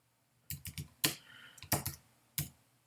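Someone types a short message on a computer keyboard, a quick cluster of clicks followed by a few single sharper key presses with pauses between them, close and quiet with no talk.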